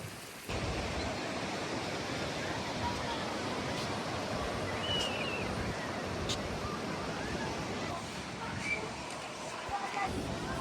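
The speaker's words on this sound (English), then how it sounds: "Super windy down here today." Strong wind blowing at a beach, a steady broadband roar and microphone buffeting that runs continuously and fairly loud through the whole stretch, with faint surf underneath.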